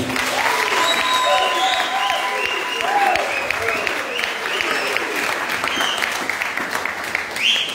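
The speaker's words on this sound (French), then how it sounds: "j'aimerais demander au peuple du Seigneur d'acclamer le Seigneur" At an anniversary Mass in a Gabonese parish church, a congregation breaks into sustained loud applause mixed with cheering and ululating voices, filling the whole stretch without a pause.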